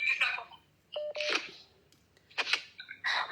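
Telephone keypad tones and beeps in short bursts with gaps, fairly quiet and near, among faint background noise and no talking.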